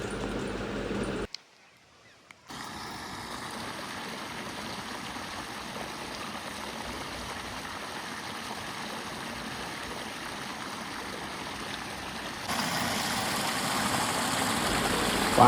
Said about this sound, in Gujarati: પાણી એવું મસ્ત આવી રહ્યું છે બોરનું